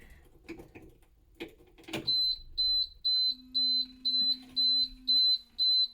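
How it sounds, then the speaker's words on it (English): A few clicks and knocks, then a loud, high electronic beep from a school bus dashboard repeating in a steady rhythm, about two per second, with a lower hum underneath. "It's beeping."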